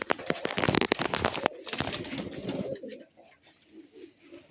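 Andhra fulsira tippler pigeons coo in a loft, with a burst of rapid clattering at first, then soft low coos that fade out.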